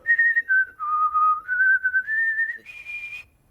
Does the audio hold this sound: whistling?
yes